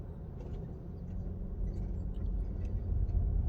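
Low, steady street traffic rumble from passing cars, heard from inside a car on a driving test route. It stays continuous and grows slightly louder toward the end, with no talking.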